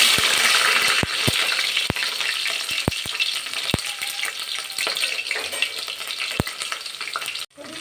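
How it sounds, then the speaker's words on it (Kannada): Hot oil sizzles steadily, with loud sharp pops from bursting mustard seeds scattered throughout as onions fry. "ಸಾಸಿವೆ ಸಿಡಿತಿದ್ದಾಗೆ ಸ್ವಲ್ಪ ಈರುಳ್ಳಿ ಕೂಡ ಹಾಕ್ತಿದ್ದೀನಿ"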